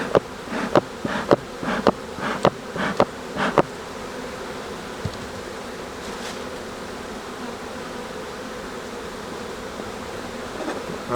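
Honeybees buzz steadily during an inspection of a backyard hive, a close continuous drone broken early on by a few sharp knocks and clicks of handling.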